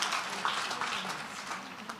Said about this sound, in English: So much applause.